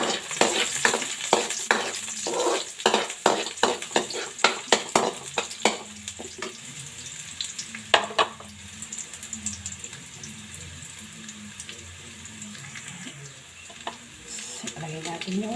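Garlic fries in oil in a pan for a homestyle Bicolano pata humba, a continuous sizzle broken by repeated sharp clacks of stirring, busier at first and then settling into a softer crackle.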